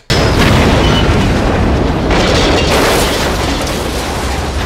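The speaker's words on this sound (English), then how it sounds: "That's the big bazooka gun." Bazooka fire from the 1976 film The Enforcer erupts into a loud, sustained explosion roar, a heavy booming blast that rolls on for several seconds with no speech over it.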